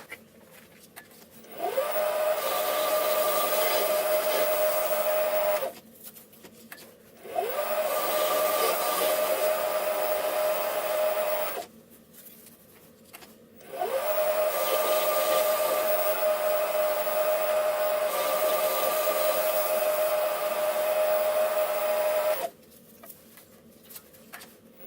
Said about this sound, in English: So I'm going to do some more work turning the diameter down here as well.